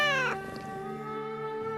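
A cartoon cat gives a short, loud meow with a falling pitch, followed by a sustained tonal hum, with no talking.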